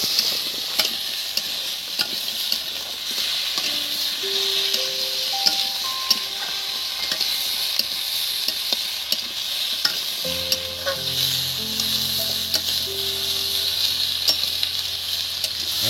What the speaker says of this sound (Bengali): এবারে বেশ কিছুক্ষণ এটা নেড়ে চেড়ে নেবো